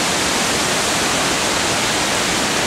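Water falls from a rock overhang at Hamilton Pool, Texas, a loud, steady, close hiss of splashing that never lets up.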